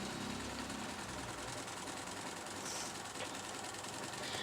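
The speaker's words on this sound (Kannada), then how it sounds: "ನನಗೆ ಈ ಟೈಪಲ್ಲಿ ಹೊಲಿಲಿಕ್ಕೆ ತುಂಬ ಚೆನ್ನಾಗಿ ಅನಿಸುತ್ತೆ, ಜಿಗ್ ಥರ" Sewing machine stitching a zigzag pattern, a steady, dense mechanical whirring and rapid needle clatter running without a break, close and continuous.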